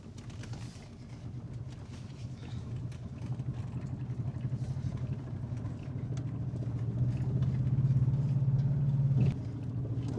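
An Audi car with a turbo, floored at full throttle while smoking badly, gives a steady low engine drone that swells louder toward the end, then eases off slightly. No talk is heard.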